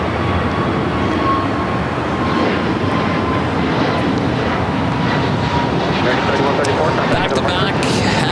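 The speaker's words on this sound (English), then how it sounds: "Back-to-back heavy takeoffs on 25 right" Heavy Boeing 777 jets taking off back-to-back from runway 25 right at LAX, a loud, steady broadband engine roar filling the whole stretch, with a voice talking over it.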